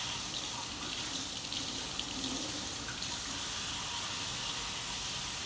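Steady flow of water from a kitchen tap splashing into a sink while vegetables such as celery are rinsed, continuous and fairly close with no talking.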